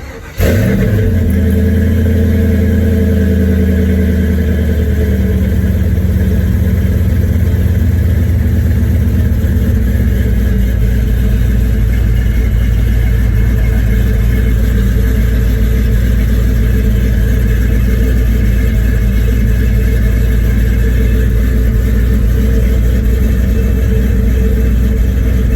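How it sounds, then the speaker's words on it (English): A car engine cranks, catches and settles into a loud, steady running drone close by, continuing without a break for the full length. "Go crank the car up, see what it does."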